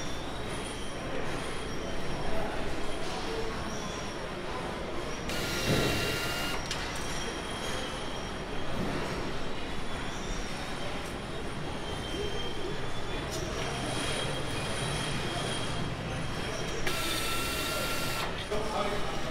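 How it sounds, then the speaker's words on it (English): Holland Mechanics bicycle wheel building machine running in a wheel assembly area of the FSA factory in Taichung, giving a steady mechanical whir with rattling and brief louder bursts, a voice talking over it. "For some wheel production, we're using the Holland Mechanics wheel building machine"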